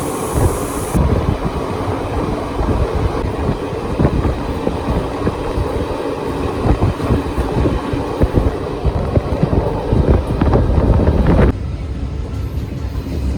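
Fazilka–Delhi Intercity Express train running on the Jaipur–Delhi line toward Delhi Junction, a loud steady rumble and rattle of wheels and carriages with wind buffeting throughout, no talking.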